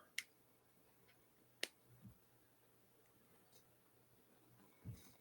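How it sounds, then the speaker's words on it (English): Sharp, isolated finger snaps ring out in a quiet room, two crisp ones early and another near the end, with faint soft handling noises between. "I'm gonna snap my fingers and just flame starts"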